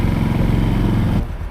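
A motorcycle runs on the road in Hakodate, Hokkaido, with fresh engine oil: a loud, steady engine rumble mixed with wind noise that cuts off abruptly near the end.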